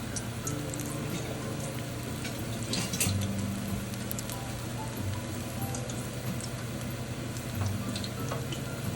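Bacalaíto codfish fritters fry in oil heated to 350 degrees, giving a steady, dense crackle and hiss that continues without pause the whole time, with a few slightly louder pops along the way.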